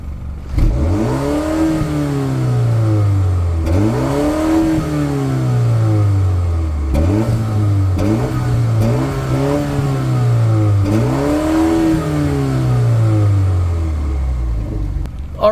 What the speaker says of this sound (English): so that was warmed up in sport. That's what the exhaust sounds like